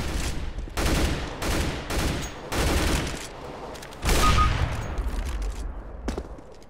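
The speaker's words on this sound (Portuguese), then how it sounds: "vamos atirar na parede" Gunfire in the shooter game CS:GO: repeated loud bursts of rifle fire in quick bouts with short gaps between them, aimed at a wall and ringing out clearly over a quiet background.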